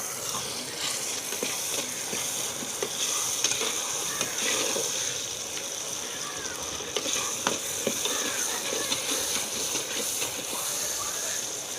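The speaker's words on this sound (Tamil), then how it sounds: "தக்காளியெல்லாம் நல்லா வதங்கி நல்லா ஃப்ரை ஆகும்" Tomatoes for a fish curry sizzle and fry in a pan with a steady, even hiss, broken by occasional stirring scrapes throughout, close and fairly quiet, with no voices.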